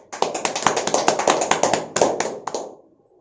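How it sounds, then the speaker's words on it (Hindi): Crowd at a training meeting in Bhiwandi, Mumbai bursts into loud applause, with dense clapping for about two and a half seconds before it quickly fades out. "एक बार जोरदार तालियां आप लोग के लिए हो जाए"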